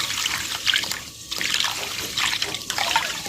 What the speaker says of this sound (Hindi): पानी डालेंगे, भिगो के रख देंगे।